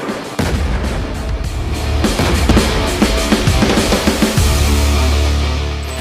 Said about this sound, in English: With precision bombs striking enemy bunkers